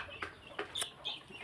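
Chickens cluck softly in a small farm poultry pen, a few short separate calls over quiet background, no voices.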